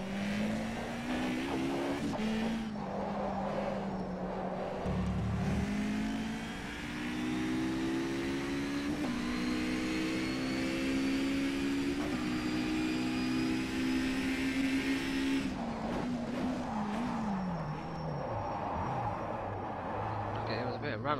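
Toyota Celica in a racing video game, its engine note climbing and shifting through gears steadily across the run, with a person talking over the game sound throughout.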